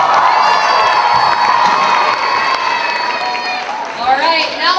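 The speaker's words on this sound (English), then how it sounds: "I'd like a round of applause for all the uncles and aunties for making this thing happen" A crowd at a community celebration performance claps and cheers, with shouts and whoops rising over the noise, which dips midway and swells again near the end.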